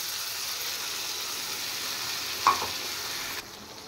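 Spices and fish frying in a pan, a steady close sizzle with a brief scrape of stirring midway before the hiss drops away near the end.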